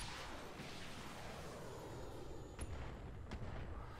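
Weapons fire in the BattleTech mod Roguetech, a dull rumbling barrage with a couple of sharper impacts near the end, fairly quiet and with no talk.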